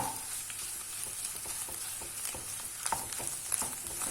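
Tomato and pepper paste sizzles steadily in a pan at low level, broken by scattered clicks and scrapes of stirring.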